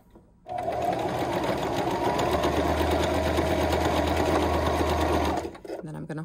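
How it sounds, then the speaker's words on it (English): A Singer Start 1304 sewing machine runs steadily in reverse for a back stitch, a loud continuous motor whir with rapid needle clatter lasting about five seconds before stopping. "I'm going to hold down my reverse and back stitch"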